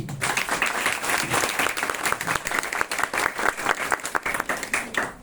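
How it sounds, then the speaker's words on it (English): At an International Women's Day celebration, an audience claps steadily, a dense wash of applause at moderate volume lasting several seconds. "please, big round of applause to all of you"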